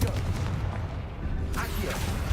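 The Confringo spell in the Hogwarts Legacy video game goes off as a deep, booming blast with a rumbling low end, followed by a second burst partway through.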